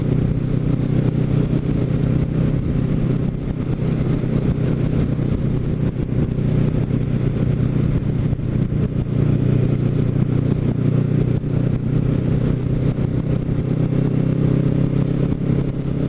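A Kawasaki Ninja motorcycle cruising a road between West Cape May and North Cape May at roughly 25 to 40 mph, its steady engine drone and rumble continuous and close throughout, with wind noise and no talking.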